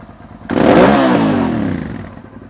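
A Suzuki SV650S fitted with a Delkevic 200mm stubby exhaust snaps into a single loud, close rev that holds a rough, rasping note before easing back down.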